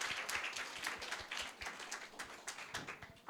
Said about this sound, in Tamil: ஒரு கைத்தட்டலோட கேட்போம்